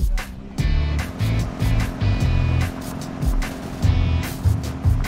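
A hand-built custom sports car on a test drive, its engine surging in repeated bursts of revving between quieter moments, fairly close and loud.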